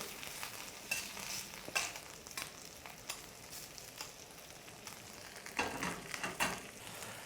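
Mushrooms frying in a pan until golden brown, giving a soft, steady sizzle with occasional stirring scrapes and brief louder bursts, fairly quiet throughout.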